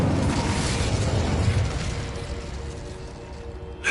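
A fire spell cast in the Hogwarts Legacy video game bursts in as a loud whooshing roar that fades over a few seconds, with a low rumble underneath and no voices.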